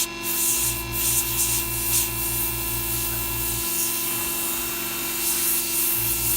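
An airbrush sprays paint for detailed purple flame artwork, giving a steady close hiss over a constant low compressor hum throughout.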